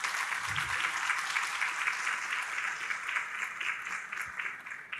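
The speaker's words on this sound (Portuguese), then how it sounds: "Uma salva de palmas para o doutor Jerônimo." Applause at a legal panel session in Salvador greets Doctor Jerônimo, a steady wash of many hands clapping, fairly quiet and distant throughout, with a faint low thump near the start.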